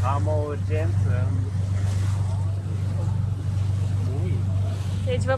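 A boat motor runs with a steady low hum under wind noise while people talk over it close to the microphone.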